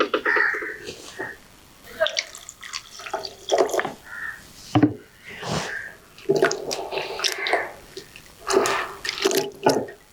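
Drumstick leaves with stems broken off are rinsed in water for a Jaffna-style stir fry, giving irregular splashing, dripping and sloshing in a home kitchen.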